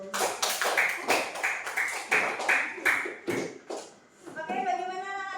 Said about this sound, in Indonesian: Tepuk tangan buat kubus